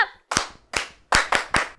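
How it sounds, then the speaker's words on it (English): Girls at a children's praise song-and-motion session clap their hands in six sharp, close claps, with a pause after the first few and then a quicker group of three at the end. "Only girls clap!"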